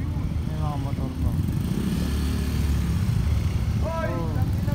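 A motorcycle engine idles with a steady low rumble, and voices speak briefly over it near the start and again toward the end.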